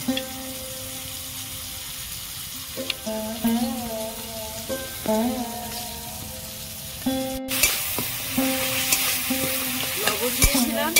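A spoon stirs ground poppy seed and ginger paste into cabbage frying in a pan for cabbage paneer, giving scraping strokes over a steady sizzle, with no voices.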